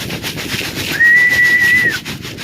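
A person whistles a single sustained, steady note lasting about a second to call pigeons, over a constant background of outdoor noise.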